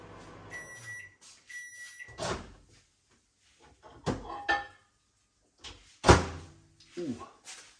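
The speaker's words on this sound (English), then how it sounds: "Right, these chips are about to ding." Microwave oven finishing a portion of chips, giving a short bright electronic ding with clear harmonic tones near the start, followed by door clunks and handling noises, with a person speaking briefly nearby.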